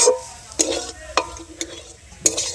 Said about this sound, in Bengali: আরও কিছুক্ষণ খুব ভালো করে আমি নেড়ে নেব